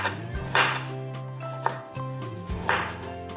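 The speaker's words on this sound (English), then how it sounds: "I'm going to put some radish in it, and I'm going to just slice that thinly." A knife slices radish thinly on a cutting board for a green salad, giving a few crisp, distinct chops close up with short pauses between them and no talking.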